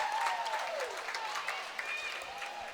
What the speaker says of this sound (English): And Anderson gets a huge round of applause.